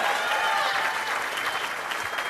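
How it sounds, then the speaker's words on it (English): Warm audience applause during a wedding speech, steady dense clapping from a roomful of guests that thins slightly toward the end. "And I wanted to start by making sure everyone gave a warm hand of applause to Cynthia and David, Barry and Marjorie"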